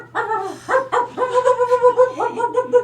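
A cluster of puppies yipping and whimpering close by, with high, quavering yelps that come in quick overlapping bursts for a few seconds over a steady low hum, with no talking.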